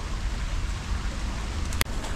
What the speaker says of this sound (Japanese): 雨が土砂降りですね